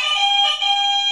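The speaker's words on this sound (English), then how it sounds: "now let's hear your buzzers" A quiz contestant's buzzer on a video games quiz podcast gives one short, bright electronic tone. It sounds like a steady alarm-like beep with a slight wobble, close and loud, with no talking.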